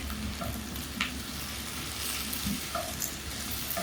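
Potatoes fry in a pan with tomatoes and green chilies just added, giving a steady close sizzle with light stirring and scraping throughout and no voices.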